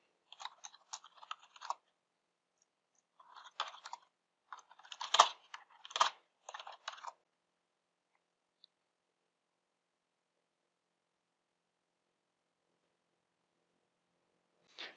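Someone types on a computer keyboard to sign in and run gpupdate on a Windows Server machine: bursts of quick, close, light key clicks, then a pause and a long silence with one faint tap at the end.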